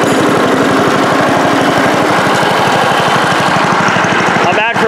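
Small engine running after a throttled start, a loud, close, rapid chugging putter with a fast steady beat throughout, cutting off abruptly at the very end.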